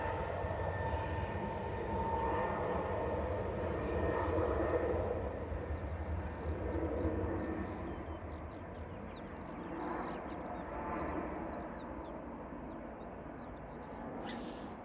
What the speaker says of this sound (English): EIDEJ, a little A320 Classic is coming in. Here it goes, gears going down.